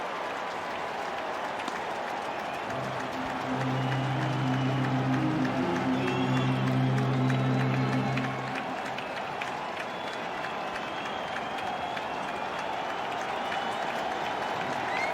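Baseball stadium crowd at an opening day game rising in a sustained roar of cheers and applause, swelling loud in the middle then settling to a steady murmur, with a tonal horn or organ-like drone under the peak.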